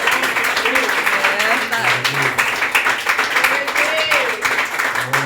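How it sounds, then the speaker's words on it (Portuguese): A church congregation claps amid loud, lively worship, with voices calling out over a sustained dense wash of hand claps. "Aplauda no palco, Senhor"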